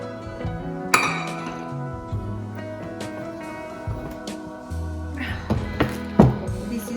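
HexClad pots and pans, packed in individual bags, clink and knock together as they are unpacked, with bright metallic chinks and a couple of sharper clanks over a low, ringing background.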